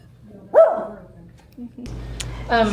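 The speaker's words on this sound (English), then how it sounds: "Guard dog." A guard dog at a roofing company office gives one loud, close bark, then a few smaller yips and whimpers, with people talking nearby.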